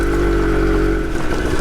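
A Harley X-90 Shortster motorcycle engine revs steadily up close, its loud airbox bark holding a throaty, continuous drone with a slight dip near the end.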